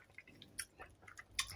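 Someone chews a bite of food up close, with soft wet squishing and smacking sounds coming in short irregular bursts during a hurried meal.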